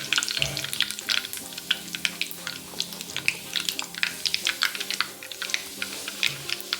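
Curry leaves crackle and spit in hot oil, a dense run of sharp pops and sizzles close up over a soft hissing bed, with no talk.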